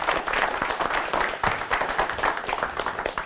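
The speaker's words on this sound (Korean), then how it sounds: "박수로 맞아주시기 바랍니다" An audience at a leadership lecture for the Korean military gives the arriving speaker, the head of the Defense Leadership Development Institute, warm applause, dense and continuous clapping throughout.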